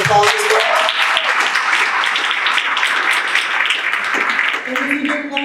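Applause from an audience in an auditorium fills the space steadily, a dense wash of clapping that runs throughout with voices mixed in and tapers slightly near the end.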